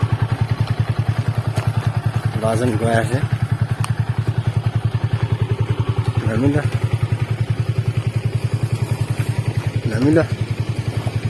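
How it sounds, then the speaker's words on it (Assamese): A motorcycle is ridden slowly, its engine chugging in a steady, close rhythm throughout, while someone speaks over it in short bursts. "লাহে লাহে বাইকটো মাৰিবা"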